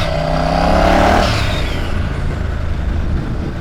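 A twin-turbo bobber motorcycle accelerating hard on a dragstrip, a loud close engine roar rising in pitch through the gears before settling into a sustained high-speed drone.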